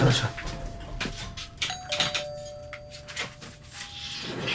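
A doorbell rings at a house door, its tones clear and moderately loud over faint background noise, with no one speaking.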